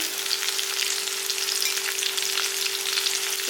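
Small onions and green chilies sizzle in hot oil in a pan, a steady, close, unbroken frying hiss with a faint constant hum underneath.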